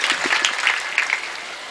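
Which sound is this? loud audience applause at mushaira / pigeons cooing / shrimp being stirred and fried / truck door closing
loud audience applause at mushaira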